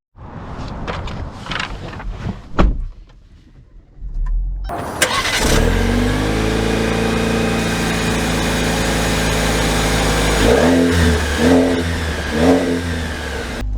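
A 2024 Jeep Compass engine starts, then settles into a loud, steady hum while driving, with a few rising revs near the end. Brief clicks and handling noises come before it, and no one speaks.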